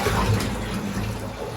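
Water splashes and pours steadily over a glass reptile enclosure being soaked during cleaning, a continuous close, fairly loud wash of liquid with no talking.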